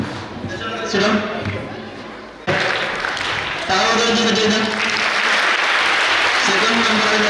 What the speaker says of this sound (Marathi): सेकंड नंबर आला आणि थर्ड नंबर आला सिडम आणि ते टाळ्या वाजवायचे